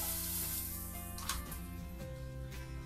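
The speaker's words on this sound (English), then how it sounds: "You put the frying pan over the stove, and you put a little of butter in the frying pan." Butter sizzles in a frying pan on the stove, a steady close hiss and crackle lasting a few seconds over faint background tones, with no one speaking.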